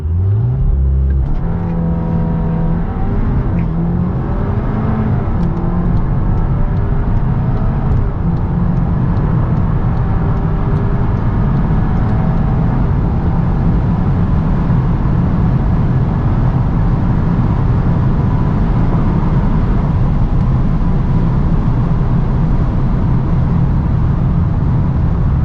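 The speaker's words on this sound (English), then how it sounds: "getting ready to launch the Golf R" A 2021 VW Golf R launches hard on a busy Autobahn, its engine roaring loud and close as it pulls through rising revs and quick gear changes, then settling into a sustained high-speed drone with road and wind rumble.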